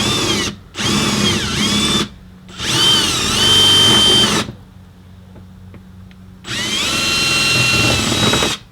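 A power drill whines loudly up close as it bores out a bolt on a 2004 Volvo XC70 during a tow bar hitch install, in four separate runs with short quiet pauses between them.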